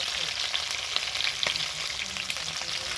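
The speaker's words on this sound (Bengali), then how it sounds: "মাংসগুলো একটু লাল করে ভেজে নিয়েছি।" Chicken pieces frying in a pan for biryani, a steady close sizzle with scattered clinks and scrapes of stirring throughout, no voices.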